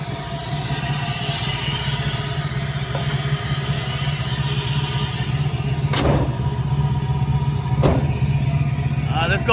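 A truck with an LS swap engine, after a misfire repair, idles with a steady low mechanical drone, close and continuous, punctuated by a couple of sharp clicks or knocks and a brief rattle near the end.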